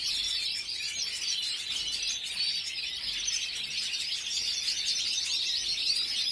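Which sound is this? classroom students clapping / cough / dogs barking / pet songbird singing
pet songbird singing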